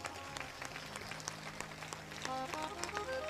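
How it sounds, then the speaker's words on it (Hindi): An audience at a spiritual gathering claps hands together, a soft scattered round of applause that builds slightly toward the end. "एक बार ताली बजाओ।"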